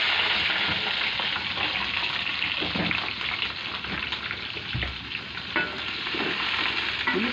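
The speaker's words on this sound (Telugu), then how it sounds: "ఉల్లిపాయలు వేపిస్తాను." Onions frying in a pan for paneer biryani, a steady dense sizzle with occasional stirring scrapes, close and continuous, with no talking.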